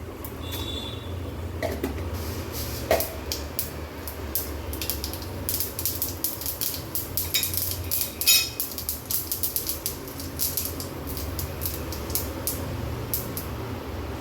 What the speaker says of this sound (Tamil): எண்ணெய் சூடாயிடுச்சு. கொஞ்சமாக கடுகு சேர்த்துக்கலாம்.